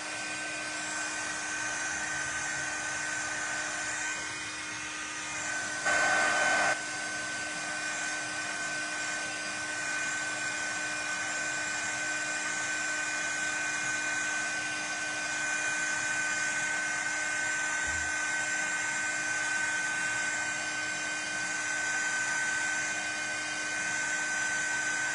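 A hair dryer blows steadily on wet paint on a painting, a loud continuous whirring drone held nearly unchanged for the whole stretch, close by, with a brief bump in its tone partway through.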